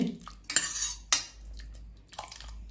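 A metal ladle scraping and clinking against a pot of cooked dal, a few short sharp knocks and scrapes separated by quiet pauses, close and moderately loud.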